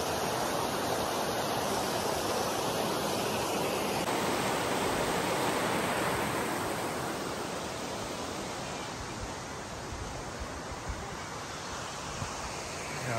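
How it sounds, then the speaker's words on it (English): Big Creek, a mountain stream in the Great Smoky Mountains, rushing steadily near a backcountry campsite; a constant broadband water roar with no pauses or voices. "But there's a creek behind me."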